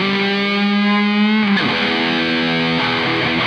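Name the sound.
electric guitar through EVH amp with overdrive, distortion, phaser, delay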